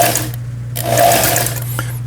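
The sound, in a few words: Janome sewing machine sewing a triple stitch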